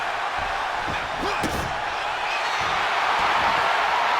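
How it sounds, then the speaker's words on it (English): A wrestler is slammed onto the ring mat in a wrestling show, giving one heavy thud amid steady crowd noise and a commentator's voice. "slammed into the mat."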